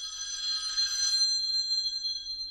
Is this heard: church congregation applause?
no